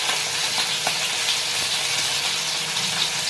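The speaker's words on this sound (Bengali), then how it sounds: "মাছ ভাজা হয়ে গেছে" Fish frying in oil in a kadai for a home Sunday meal, a steady close crackling sizzle with small pops running throughout, no voices.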